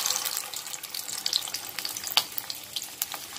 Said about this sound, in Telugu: ఇప్పుడు మనం ఆయిల్ లో వేసేసుకుందాం మన కబాబ్స్ ని స్వీట్ కార్న్ కబాబ్స్ వేసేసుకుందాం